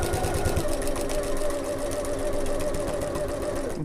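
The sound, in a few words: sewing machine stitching the Adventurer Sling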